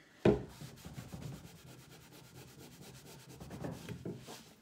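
Rubbing and burnishing of a decorative transfer by hand, a soft dry scraping friction with a sharp onset, then steady low scuffing strokes that swell again near the end, close and fairly quiet with no talking.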